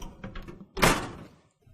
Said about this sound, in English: And slide the module in.